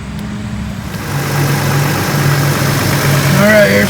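A 2008 Hyundai Santa Fe engine idles after a cylinder 5 misfire repair, a steady mid-pitched hum that swells slightly and runs evenly throughout, close by with a faint whine near the end.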